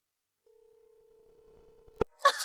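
Unanswered telephone call: a steady electronic tone repeats in a quiet room, followed by a sharp click and a short burst of noise.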